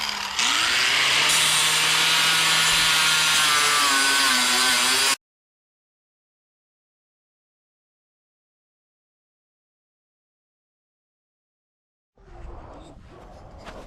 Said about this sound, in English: we're going to swap the bits over and we're going to begin the smoothing process.